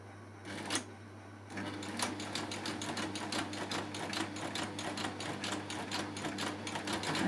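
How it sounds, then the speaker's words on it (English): A Baby Lock coverstitch machine sews a lap seam at slow to medium speed with differential feed on N and stitch length 3, giving a steady, even run of rapid needle clicks over a constant motor hum after a short start. "As you see, I stitch quite slowly when I'm doing this."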